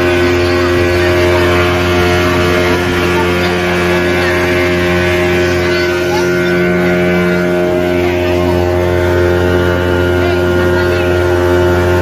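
A motorboat ride on the water at Pondicherry, with a loud, constant engine drone and steady wind buffeting the microphone throughout.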